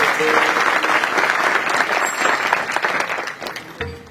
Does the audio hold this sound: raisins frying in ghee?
no